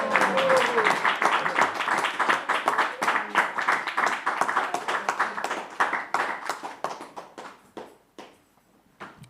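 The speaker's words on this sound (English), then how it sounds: "Yes, please give her a big hands." A live audience claps together in a big hall at a devotional gathering, dense applause that thins into scattered claps and fades out toward the end.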